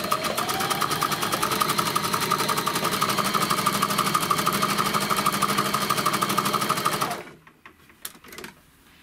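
A sewing machine with a skipped-stitch fault runs a wide zigzag through thick, dense fabric: a loud, steady, rapid mechanical whirring and clatter for about seven seconds, then it stops and a few faint clicks follow.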